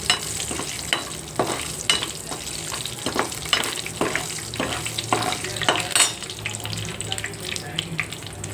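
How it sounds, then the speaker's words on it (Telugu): Cashew nuts being lightly fried in a pan, with steady sizzling and repeated scraping stirs throughout, some watery clatter mixed in, close and fairly loud with no talking. "జీడిపప్పు లైట్గా వేయించుకుందాం."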